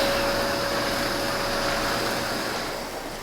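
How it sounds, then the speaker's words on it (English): Kenmore 600 series or Miele C1 canister vacuum cleaner running, a steady close broadband roar with a faint whine, fading slightly at the end, no talk. "the sound difference to me between the Miele and the Kenmore is huge"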